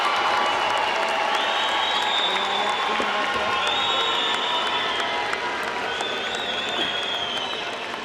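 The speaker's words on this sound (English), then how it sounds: "Let's give a round of applause to the graduates of the Health and Public Safety Division." A large commencement crowd applauds graduates of a health and public safety division, with continuous clapping mixed with cheers and a few shouts, heard at moderate level with whistles rising above the wash.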